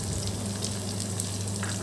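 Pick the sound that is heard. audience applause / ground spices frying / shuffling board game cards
ground spices frying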